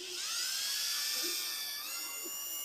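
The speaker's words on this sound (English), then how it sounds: "pre-drill a little bit smaller hole" A drill whines at high speed while pre-drilling a small pilot hole in wood for a shelf pin jig, a steady shrill spin that shifts pitch slightly near the end.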